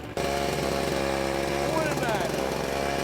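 A small pony starter engine on a DT75 tractor, idle for three years, sputters to life on the second try after a brief pause, then runs steadily with a buzzy, high-revving drone, close by.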